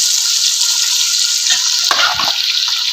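Mutton hits hot oil in a pot for mutton pulao spiced with garam masala, setting off a loud, steady hiss of frying with a brief bubbling stir partway through.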